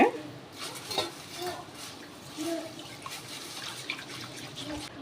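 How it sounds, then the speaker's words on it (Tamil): Black urad dal and finger millet being washed together in water, with steady sloshing and rinsing close by that continues throughout, joined by a few small splashes and clinks. "ரெண்டையுமே நான் சேர்த்து நல் தண்ணி ஊற்றி ரெண்டு மூணு தடவை நல்லா கழுவிடுங்க"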